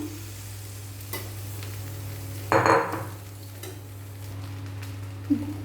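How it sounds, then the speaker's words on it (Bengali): Pieces of vegetable and rice are stirred in hot ghee for vegetable fried rice, with a loud scraping, sizzling burst midway over a steady low hum and a few lighter clinks. "ঘিয়ের মধ্যে নাড়াচাড়া করে নেবো এরপর সবজির টুকরো বেজে রাখা টুকরোগুলো দিয়ে দিলাম"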